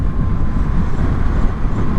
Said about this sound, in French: Je retombe un peu en vitesse juste pour remettre du gaz et avoir ces bonnes vibrations là, c'est sympa.